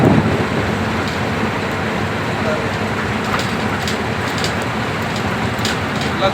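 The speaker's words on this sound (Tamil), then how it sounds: "மழை சீசன் ஆரம்பிச்சிருச்சுங்க நாலு மாதத்துக்கு மழை போட்டு பின்னி எடுக்கும்" Steady rain falls at the start of the rainy season, a dense, even hiss with a low rumble beneath it that stays constant throughout, with no gaps or changes.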